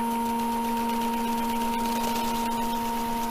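A wood lathe holding a workpiece on a vacuum chuck spins at high speed, giving a steady, continuous motor hum with a constant pitch and no voices.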